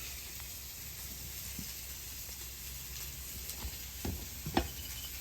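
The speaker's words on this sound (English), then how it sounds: "Take that butter and melt it." Butter melts on a hot steak griddle, giving a faint, steady sizzle with a few soft crackles and pops, close and quiet.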